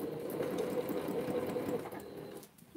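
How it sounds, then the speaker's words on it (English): An old sewing machine running, a steady close mechanical whir for about two seconds before it slows and stops, with no talking. "My my sewing machine is so old."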